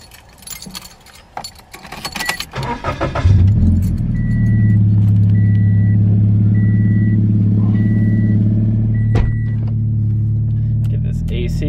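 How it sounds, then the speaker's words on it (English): A Scion FR-S on a test drive: keys jingle and clatter, then the engine starts and settles into a loud, steady idle hum with a repeating chime beeping over it. "So we're gonna take it for a quick test drive"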